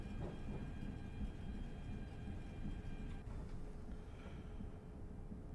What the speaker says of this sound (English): Makes some weird noises. One sounds like it's a clockwork train.